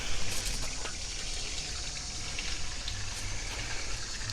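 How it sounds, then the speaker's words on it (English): Water trickles and splashes steadily into a garden pond outdoors, a continuous close wash of sound with a faint low hum beneath it. "I can just sit here in the morning, by the water and listen to the pond"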